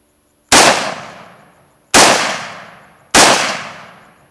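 Three loud gunshots from a Tavor rifle, spaced about a second and a half apart, each a sharp crack that decays over roughly a second with no talking in between.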